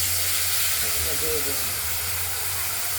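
Grated ridge gourd is poured into hot oil in a wok and sizzles at once, a loud, steady spitting hiss through the whole stretch.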